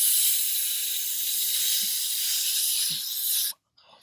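Steady breathy hiss of air blown through small carburetor jets from a Carter AFB carburetor, close and continuous for several seconds before cutting off abruptly.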